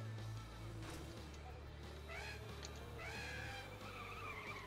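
A buggy in a video game doing handbrake donuts, with a low engine drone and squealing tire skids, while a person talks over it.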